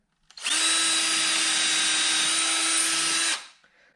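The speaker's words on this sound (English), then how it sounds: "We're just gonna drill 2 screws in each side." A power drill whirs steadily for about three seconds, driving a 30mm screw into a wooden Shaker side table, then winds down; close and loud with no talking.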